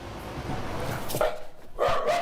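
A golden retriever barks and yips in a few short bursts outdoors near houses, with rustling noise in between, fairly close and moderately loud.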